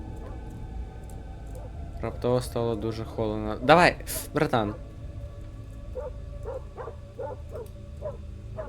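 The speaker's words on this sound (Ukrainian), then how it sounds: "собака в мене лає" A dog barks several times in a burst at mid-volume, then gives fainter, higher yips afterward, while someone speaks over a low hum in a horror video game.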